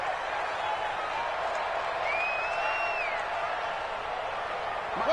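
Stadium crowd in a football video game building toward a big third down, a steady, loud wash of cheering and applause with a faint whistle-like tone riding over it.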